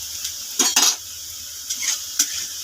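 Potatoes and onions fry in a pan under a low sizzle, broken by about three short bursts of a utensil scraping and stirring against the metal.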